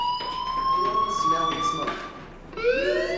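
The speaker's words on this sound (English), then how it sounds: "Hey, do you hear that fire alarm? That means you should be outside." School fire alarm in the video game Life is Strange, a loud electronic tone wavering steadily, then pausing and resuming with a rising sweep near the end, with a voice talking over it.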